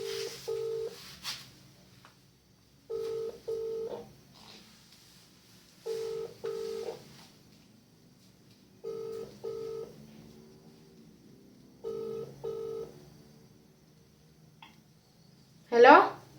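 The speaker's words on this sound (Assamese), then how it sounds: "ফোন এটা কৰিছে" A phone call's paired ringback tones repeat about every three seconds at a moderate level, and a brief louder sound comes at the very end.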